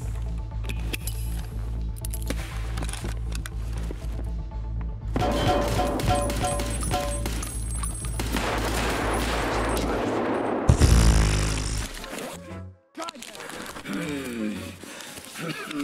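Rapid bursts of gunfire in Escape From Tarkov crackle over a droning game soundtrack, with a heavier impact near the end and voices talking underneath.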